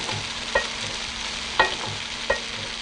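Leeks, bean sprouts, prawns and noodles stir-frying in a pan, a steady sizzle with a few sharp scraping clinks of the utensil against the pan, close and with nobody speaking.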